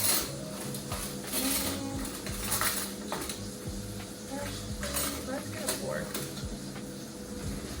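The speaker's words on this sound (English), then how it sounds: "we're gonna flip our sausage that's in the pan already" Sausage being flipped in a pan with a metal flipper, with light clinks and scrapes of utensil on cookware at a steady pace, close and fairly quiet under a person talking.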